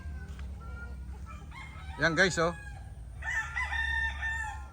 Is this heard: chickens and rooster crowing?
yes